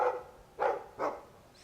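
A Mabari war dog in the Dragon Age II video game gives three short, sharp barks in quick succession, fairly faint and with no talk over them.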